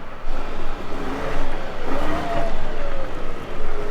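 A farm tractor at the start of the harvest, fitted with a new implement, revs its engine in several short bursts of acceleration, each rise and fall fairly close and loud against steady mechanical noise.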